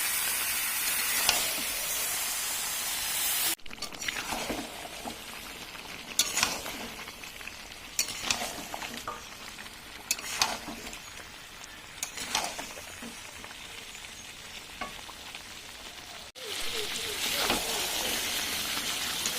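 Meat stir-fried in a pan with meat masala gives a continuous sizzle broken by repeated spatula strokes and scrapes, with two brief cuts in the sound along the way.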